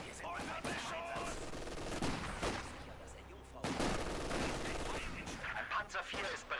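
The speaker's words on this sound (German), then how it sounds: "Wir sind unter Beschuss!" Battlefield gunfire in Company of Heroes 2, with machine-gun bursts and sharp shots crackling in a busy, layered mix amid heavy in-game combat noise.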